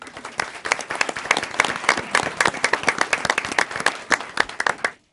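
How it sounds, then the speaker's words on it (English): Audience applause fills a county commissioners' meeting in Pitt County, a steady crowd of many hands clapping close and loud for about five seconds before cutting off abruptly. "if we have applause, please."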